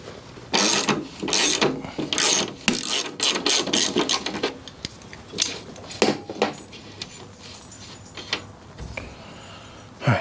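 A ratchet loosens the rear axle nut on a 1995 Harley Evo Softail, giving repeated bursts of close, crisp clicking separated by short pauses, with no talk.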